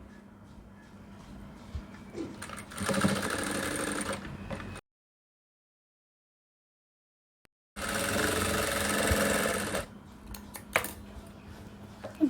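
A sewing machine stitches a kids' shirt in two bursts of steady whirring, close and fairly loud, with a few seconds of dead silence between them.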